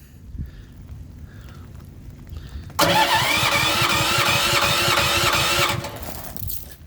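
A Predator propane-fuelled generator engine cranks and catches abruptly, then runs loud and steady close by for about three seconds before cutting back down.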